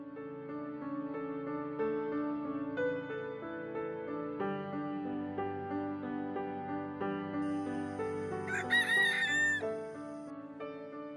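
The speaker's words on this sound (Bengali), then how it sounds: "খুব ভোরে মোরগের ডাকে আমাদের ঘুম ভেঙে গেল।" A rooster crows at dawn in rural Purulia, its calls rising late in the clip over a steady, sustained tonal background.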